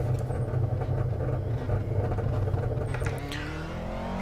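An iRacing race car engine hums steadily at pit-limiter pace, a continuous mid-level drone that shifts in pitch near the end, with no talking.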